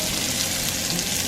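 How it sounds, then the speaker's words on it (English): Breaded mahi coated in crushed Ritz crackers, flour and seasoning frying in olive oil gives a dense, even sizzle with fine crackling, close and continuous for a brief moment, with no talking. "And I'm frying that up in some olive oil."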